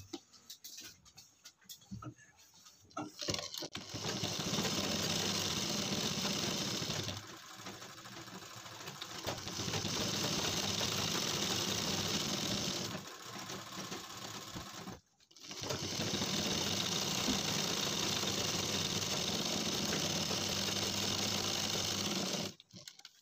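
A sewing machine runs double stitching on jeans being shortened and fitted, buzzing steadily in two long loud runs with a brief pause between them, and no voices.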